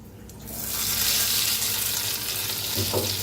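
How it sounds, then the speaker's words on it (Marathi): A loud burst of sizzling as hot oil hits food, a steady hissing crackle that swells quickly and holds. "आता गरम गरम फोडणी ह्याच्यावर ओतून घेऊया"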